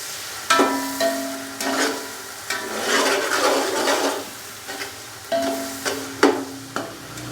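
Tomatoes and spices being stirred and fried in a pan for vegetable pulao: soft sizzling under repeated scraping strokes of a spoon against the pot, close and moderately quiet.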